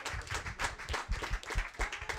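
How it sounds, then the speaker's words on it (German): Brief audience applause after a lightning talk at a conference, a faint patter of scattered hand claps with irregular rhythm, heard at a distance. "Einen Applaus."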